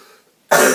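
A single sharp, forced cough or throat clear bursts out loudly and close after a moment of near silence.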